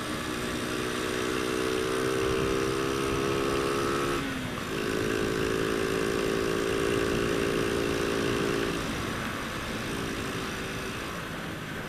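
Honda Astrea Grand motorcycle ridden in third gear, its engine holding a steady whine that dips briefly as if shifting or easing off, then climbs again and fades slightly at the end.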